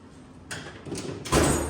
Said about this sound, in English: This drawer, my wrench drawer, opens and closes probably the smoothest of all of them.